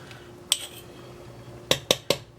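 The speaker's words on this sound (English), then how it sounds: "You mix it together to thicken up your sauce a little bit" A spoon clinks against a cup while cornstarch is mixed in for thickening beef stew sauce, one sharp tap followed after a pause by three quick metallic chinks, close over faint background hum.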